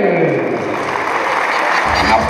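Crowd at a quad bike race prize ceremony giving the winners a big round of applause, dense steady clapping close by, with a voice over a loudspeaker talking through it.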